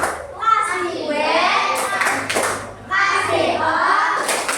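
A children's class chants and claps through a 'tepuk wow' cheer, young voices calling out in rhythm with bursts of hand claps, close and lively.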